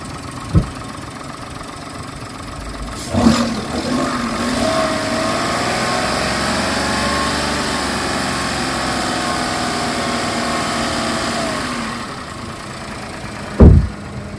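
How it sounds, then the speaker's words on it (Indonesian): The 1000 cc engine of a silver 2021 Daihatsu Sigra idles steadily and close, with a few sharp clicks or knocks at the start and end. "ini nih kondisi mesin Daihatsu Tigra D 1000 cc tahun 2021 warna silver"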